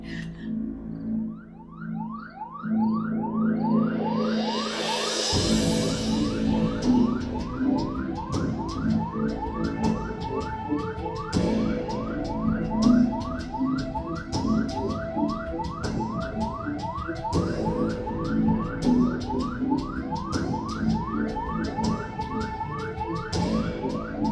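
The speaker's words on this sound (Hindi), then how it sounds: "एम्बुलेंस होगी वो।" A wailing ambulance siren rises and falls in a steady repeating cycle, loud and close, continuing for the whole stretch with traffic noise beneath.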